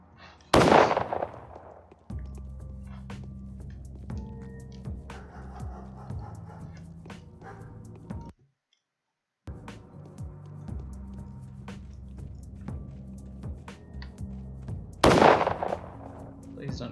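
Gunfire in the video game Pathologic Classic HD, with two loud sharp bursts near the start and end framing a steady stretch of in-game background noise and rumble, briefly cut to silence partway through.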